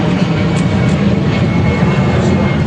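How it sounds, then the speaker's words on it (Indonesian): A passing airplane rumbles overhead outside a courthouse hearing, a loud, sustained low engine drone filling the whole moment without any talking. "suara pesawat"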